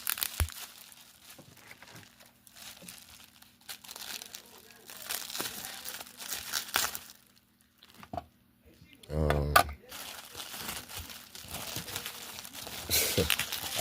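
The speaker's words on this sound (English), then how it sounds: "Let's take the tape off of it." Tape is pulled and peeled off a foam-wrapped package in scattered bursts of crinkling and tearing, with a sharper rip near the end and quiet gaps between.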